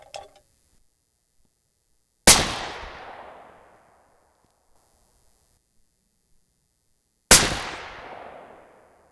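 Two sharp, loud .300 Win Mag rifle shots firing 230gr Hornady A-Tip loads at the range, about five seconds apart, each cracking hard and then decaying into a long echoing tail, with silence between.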